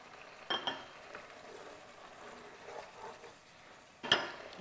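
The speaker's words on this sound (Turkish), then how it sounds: "Şöyle bir karıştırıyorum" A spoon scrapes and clinks against a pan in two short bursts while stirring meat and thyme, with a faint sizzle of cooking in between.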